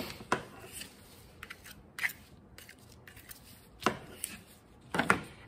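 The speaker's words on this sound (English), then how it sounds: "I'm gonna use this little razor blade to clean up my little ink pile" A small razor blade scraping printmaking ink off a palette knife, a handful of short, sharp scrapes spaced irregularly against a quiet background.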